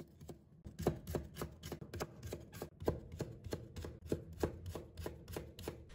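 Half a carrot being cut into thin strips with a kitchen knife, a brisk, even series of sharp chopping taps on a board, close and alone without talk.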